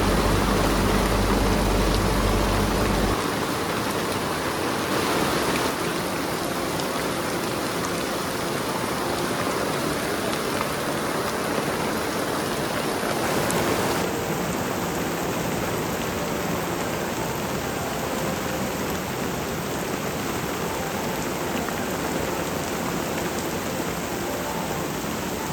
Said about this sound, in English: In the evening it started raining and we enjoyed the sight of rain and the sound of rain.